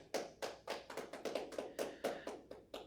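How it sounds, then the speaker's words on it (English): Single pair of hands clapping about ten times in an even, brisk rhythm, close and clear with no talking, a lone mock round of applause. "Round of applause."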